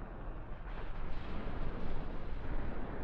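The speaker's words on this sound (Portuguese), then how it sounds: "A explosão é maior, né?" A car explodes in the video game GTA San Andreas, a loud, sustained roaring blast with dense low rumble and crackling fire that swells over about three seconds with no voices.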